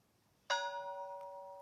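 In a ship-sinking survival video game, a bright electronic bell chime rings once and holds, a clean ringing tone sustaining over near silence.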